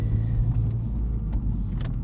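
Interior drive in a 2019 Honda Civic Type R, with a steady low engine and road drone rumbling close and loud throughout, plus a few faint clicks, and no voices.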